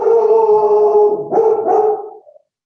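A female dog gives a single drawn-out bark that bends into a howl, close and loud, then fades to silence.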